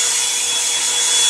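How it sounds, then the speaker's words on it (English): A hair dryer, made from a hairbrush with the brush removed, blows steadily and loudly at close range over a watercolor painting of a bird of paradise, a continuous airy whoosh with no talking. "blow dry this to get this hot where I can go in and finish it real quick"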